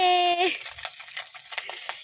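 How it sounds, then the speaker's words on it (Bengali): Fish frying in a pan gives a soft crackling sizzle with scattered pops, close by and fairly quiet, after a brief tonal sound at the start. "বরের মাছ ভাজা হয়ে গেছে মাছ ভাজাগুলো নামিয়ে নিচ্ছে"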